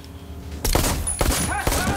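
A gunshot from a scene in the TV crime drama Ozark cracks out sharply after a quiet opening, followed by further loud impacts and scene noise, with faint speech underneath.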